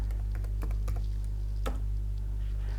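Keys on a computer keyboard tap in a few light, irregular clicks, with one sharper strike midway, over a loud steady low hum.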